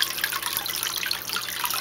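A steady rush of water pours along one side of a channel during a flow test, a continuous bright splashing trickle, close and uninterrupted.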